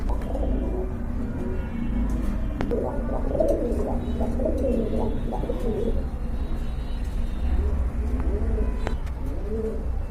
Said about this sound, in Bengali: এখানে কিন্তু একজোড়া বিগ সাইজের হোয়াইট লেসার কবুতর আছে